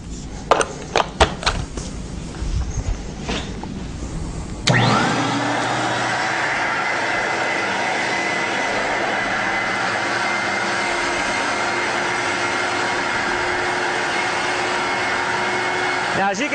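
A Rotovac rotary carpet cleaning machine working off a portable extractor: a loud, steady roar and whine starts abruptly partway in and runs continuously, after a few scattered clicks and knocks.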